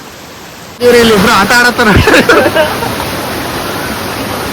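Water from a waterfall roars as steady broadband rushing noise, loud and continuous, while a person speaks over it near the start.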